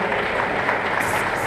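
Applause from an audience at an Onam celebration held by a Kerala cultural association in Hyderabad, heard as a dense, steady wash of clapping that stays loud throughout the short stretch.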